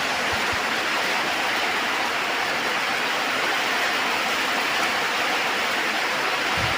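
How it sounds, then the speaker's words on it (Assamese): Heavy monsoon rain pours down steadily in an Assamese village, a loud, dense, unbroken hiss that continues throughout with no voices. "ফাইনেলি গাইছ ধাৰাসাৰ বৰষুণ আহি গ'ল।"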